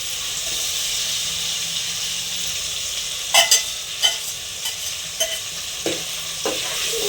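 Eggs fry in a pan for tomato rice with a constant hissing sizzle; partway through, a spoon stirs them, giving a series of sharp scraping clicks over the steady frying.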